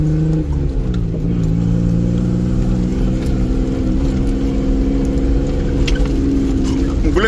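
An off-road car engine revs hard and loud throughout, with a continuous deep roar and rising pitch on a rough riverside trail, while voices talk faintly underneath.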